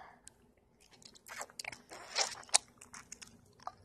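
Close, crisp crunching and biting on hard crunchy rocks being eaten, with a series of sharp irregular bites and chews building to a loud snap midway, then a few quieter crunches.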